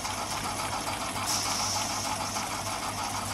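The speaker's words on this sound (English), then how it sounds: "This runs so well, this engine." A Jensen 20G model toy steam engine running on live steam makes a steady, fast mechanical chuffing and whirring, close up and continuous, with a faint higher hiss joining partway through and no talk.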